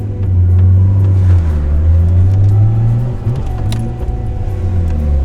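Stolen Nissan Skyline R32 engine running roughly and cutting out around 2000 RPM, a loud, close, steady low drone that dips and sags partway through, with no talking.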